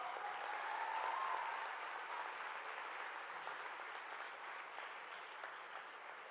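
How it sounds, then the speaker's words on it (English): Audience at a Model UN opening ceremony gives a continuous round of applause, thick steady clapping throughout with a faint whoop early on, gradually easing off. "A huge round of applause, everyone."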